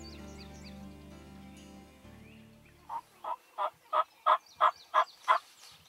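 A wild turkey in Kansas gobbles in the open during a hunt, a rapid series of about eight evenly spaced, throaty gobble pulses at middle distance after a stretch of low rustling background.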